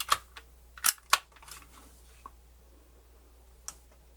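A used, dirty MiniDisc player's mechanism clicks and ticks as it tries to start, a few sharp near clicks in the first second and a half, then sparse fainter ticks with quiet gaps.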